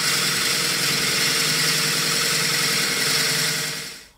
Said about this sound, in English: I'm going to drill this 1 1/16 inch bit as far in as what the shaft will allow me